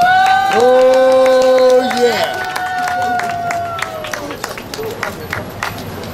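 An audience at a dance academy's regular performance gives applause, with scattered clapping and crowd noise after a sustained musical tone fades, along with some voices.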